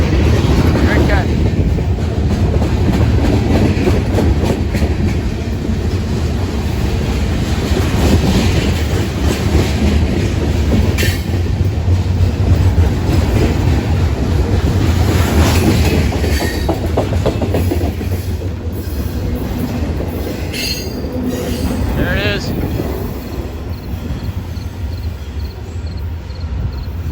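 A slow freight train with many axles and several locomotives rolls past on the rails at San Clemente, heading south toward San Diego, close and loud, with steady rumble, wheel clatter and occasional squeals, a voice talking over it now and then.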